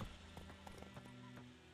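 Horse hooves clip-clop in The Witcher 3 game, a steady, quiet rhythm of several close hoofbeats over a faint background drone.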